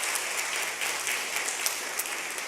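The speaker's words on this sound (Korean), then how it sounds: "환영의 박수 드리겠습니다." A church congregation at a Korean Sunday service claps steadily in welcome, a dense even wash of applause throughout, no voices.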